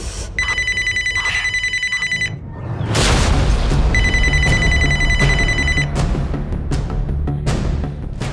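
A telephone rings after a call is placed, two bursts of bright electronic ringing separated by a gap, loud and close with background noise and faint voices.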